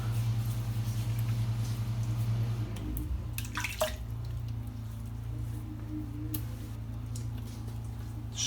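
Water drips and splashes while moisture is worked into shaving lather, a few close drips and a wet squish over a low background hum.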